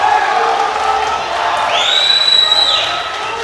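A crowd at a world classic powerlifting championship cheers and whoops loudly, with a rising shout and scattered applause, all packed into a short burst.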